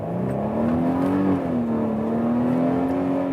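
A Mercedes GLC 300 engine accelerating hard from inside the cabin, a smooth steady drone whose pitch climbs, dips briefly as the gear shifts, then climbs again, loud and unbroken with no talking.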